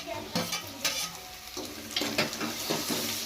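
Ingredients frying in oil in a pan before tomato goes in, with a steady sizzle broken by repeated scraping strokes of a spoon against the pan, close and fairly loud, with no talk.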